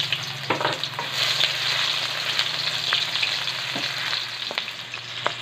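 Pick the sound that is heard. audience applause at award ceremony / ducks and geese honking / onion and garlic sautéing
onion and garlic sautéing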